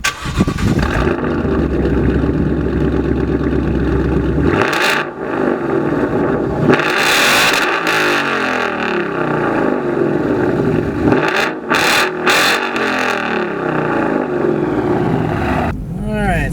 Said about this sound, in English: the only other main modification is that exhaust, which is a Roush catless exhaust, and it sounds really good